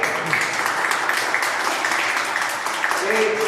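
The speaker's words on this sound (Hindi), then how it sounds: "तो आप आपके जो बच गए हैं वो अपने लिए तालियां बजाओ पहले" Audience applause at a Hindi poetry gathering held at an international school in Gurgaon for Labour Day, a steady dense wash of many hands clapping throughout, with a voice faintly present near the end.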